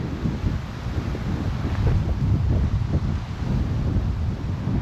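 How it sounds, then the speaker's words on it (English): Wind buffets the microphone in loud, gusty low rumbles that rise and fall throughout. No voices. "but it is windy"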